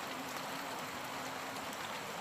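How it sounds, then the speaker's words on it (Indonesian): Heavy rain pouring steadily onto rice fields, a constant dense hiss with no breaks and no voices. "Hujan turun dari atas."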